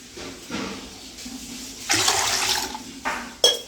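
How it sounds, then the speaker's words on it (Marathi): Water poured into a bowl of rinsed lentils set to soak, a bright splashing gush rising midway and continuing for about a second, with a short sharp splash near the end. "यामध्ये दोन पाणी टाकून भिजत ठेवायच्या"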